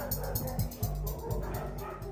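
Dogs kept in dirty concrete sheds at a Welsh puppy farm give short yips, barks and whimpers, several overlapping and fairly faint, over a low background hum.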